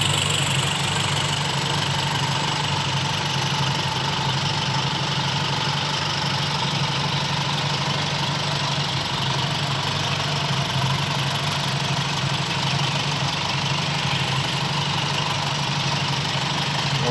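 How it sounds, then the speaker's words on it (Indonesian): Toyota Kijang engine fitted with double-power ignition idling smoothly and very slowly, a steady low even hum with faint mechanical ticking, unbroken and close throughout. "Suara mesinnya"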